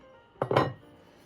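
A preheated metal pan for sourdough bread is pulled from the oven, giving a short double clank of metal on metal near the middle, close and fairly loud against a quiet background.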